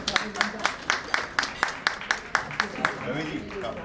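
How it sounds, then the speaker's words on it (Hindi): An audience at a Lions club seminar claps in an even, rhythmic beat, about a dozen crisp claps at a steady pace, moderately close. "तालियां बजा सकता है"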